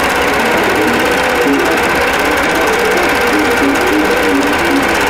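A longarm quilting machine stitches a wholecloth quilt design, giving a steady, close, continuous mechanical whirr with a fast even needle rhythm throughout, no voices.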